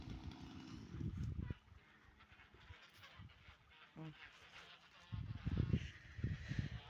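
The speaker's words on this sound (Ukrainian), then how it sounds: "Ей, гуси полетіли." Geese take flight, honking and cackling in loud bursts at the start and again near the end, with a quieter stretch of noise between.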